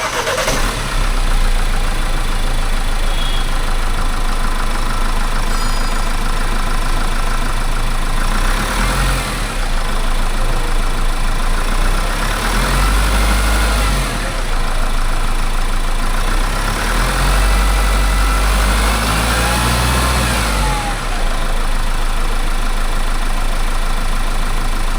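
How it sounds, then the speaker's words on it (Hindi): An updated 2026 Mahindra Scorpio N Z8L diesel engine runs loud and close at a steady rumbling idle, with deep low throbs and a few swelling surges over the continuous drone. "तो चलिए स्टार्ट करते हैं डीजल इंजन एंड सुनते हैं इंजन साउंड।"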